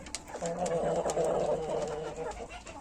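Ornamental chickens in a backyard coop give soft, murmuring clucks and coo-like calls close by for a few seconds.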